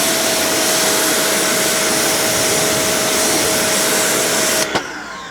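Electric pressure washer spraying through a slightly open fan nozzle onto dirty painted siding, a loud, steady broadband hiss of water that holds constant and then cuts off abruptly near the end.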